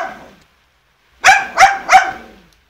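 Dogs barking outdoors at a turtle release, a faint bark at first, then a pause and three loud, evenly spaced barks close by.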